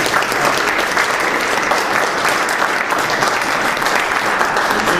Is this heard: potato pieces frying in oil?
no